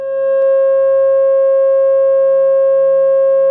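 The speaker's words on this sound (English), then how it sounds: "What about the pentagon at 540?" A single pure electronic tone for the pentagon sounds loud and perfectly steady throughout, with no talking or other sounds.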